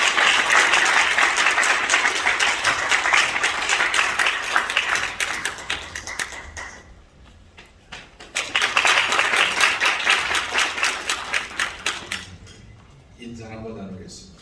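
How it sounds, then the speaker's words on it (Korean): An audience at a Korean church event claps loudly to welcome a pastor to the stage, dense applause in two long bursts with a fading lull between, then a voice speaking over it at the end. "나오시면 우리 큰 박수로 모시겠습니다"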